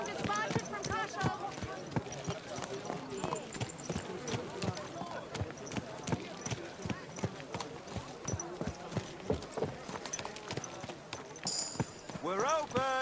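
Horse hooves clip-clop in a steady, quick rhythm through a town in Kingdom Come: Deliverance II, the trotting close and continuous, with voices calling out over it.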